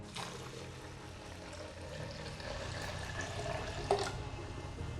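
Water pours from close by into a blender already holding oats, giving a soft, steady trickle for a few seconds with a brief clink near the end.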